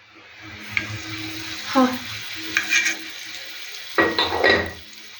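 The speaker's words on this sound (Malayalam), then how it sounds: "അപ്പോൾ ഞാൻ എണ്ണ ഒഴിക്കുകയാണ്." Cooking oil goes into a hot pan for Kerala-style chilli catfish curry, sizzling softly in bursts with stirring and clattering utensil sounds, fairly close with some background noise.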